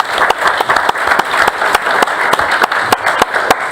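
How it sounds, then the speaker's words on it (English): An audience at a school board meeting applauds the school band, a dense burst of clapping that is close and sustained throughout. "Let's give the band another round of applause."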